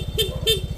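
Stock horn on a Yamaha Mio Gear scooter gives two short, loud toots about a third of a second apart over the steady idle of the engine.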